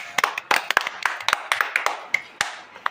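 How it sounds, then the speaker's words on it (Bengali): Children clap after reciting a rhyme, a loose, uneven run of sharp, close hand claps with irregular gaps and no talking. "সবাই একটু হাততালি দাও।"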